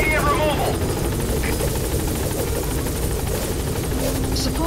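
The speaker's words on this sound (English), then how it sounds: "Support helicopter has arrived." A support helicopter in Metal Gear Solid V hovers near a landing zone with a loud, steady rotor thump and engine whine, while radio voices talk over it.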